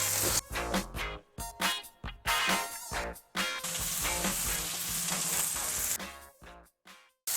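Homemade meatballs frying in a pan give a close sizzling crackle that cuts in and out in bursts, with short silent gaps between the louder stretches of frying.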